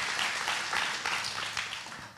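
A church audience applauds for God during a bilingual English-Spanish service, a steady, dense wash of clapping held at even loudness for a couple of seconds with no speech on top.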